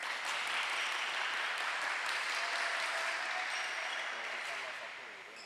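Steady crowd applause fills a school badminton match hall, a broad continuous clapping that holds evenly, then fades slightly at the end.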